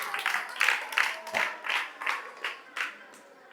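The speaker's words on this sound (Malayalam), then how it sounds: "കയ്യടി കൊടുത്തേ" An audience claps at a cricket stadium event in Krishnagiri, Wayanad, with a short burst of hand claps coming in uneven pulses that fade and thin out over a few seconds.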